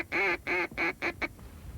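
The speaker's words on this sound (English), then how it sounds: "Here's the duck." A duck on open water gives a run of five loud, nasal quacks, each shorter than the last, tapering off into quiet outdoor background with no talking.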